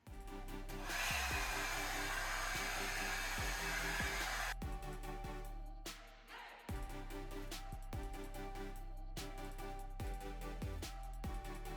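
A Revlon hair dryer blows with a steady, loud whirring roar, with its tone and airflow changing briefly as the setting is switched partway through, then running steadily again.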